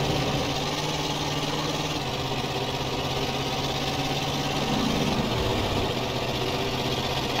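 A van engine in GTA San Andreas runs with a continuous, even mechanical drone and a steady vibrating hum, with no talk heard.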